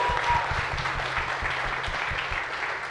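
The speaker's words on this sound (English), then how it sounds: "let's give it up both again for Rohini and for Michael for their fantast" Audience applause at an Astronomy on Tap science talk night in a San Antonio venue, a steady dense wash of clapping from a moderate crowd lasting the whole clip without fading.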